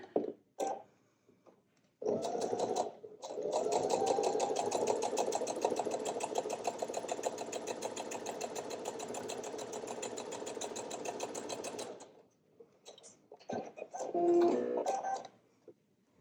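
A sewing machine runs steadily for about ten seconds stitching quilt fabric, close and fairly loud, with brief handling clicks before and after.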